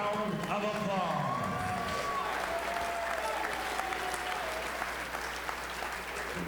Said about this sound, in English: let's give both fighters a big round of applause